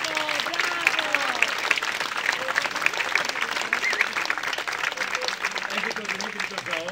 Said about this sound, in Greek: ειδικά ένα χειροκρότημα για τον μικρό Στέφανο.